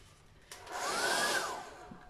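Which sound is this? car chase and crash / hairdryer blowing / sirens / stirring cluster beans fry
hairdryer blowing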